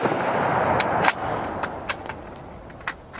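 A 7.35 Carcano rifle fires a close, loud shot early on, followed by a sharper crack and a few fainter clicks of the bolt being handled.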